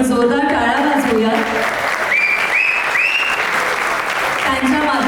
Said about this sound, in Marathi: आज इथे उपस्थित सगळ्या सोशल मीडियाच्या या माध्यमांसाठी आपण जोरदार टाळ्या वाजवूया